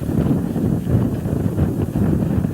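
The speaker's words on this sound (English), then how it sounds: "Now this following wind is gusting quite strong at times." Strong, gusting wind roars across an outdoor microphone along the route of a 1988 marathon at the Humber Bridge, a steady low rumble with surging buffets and no clear voices.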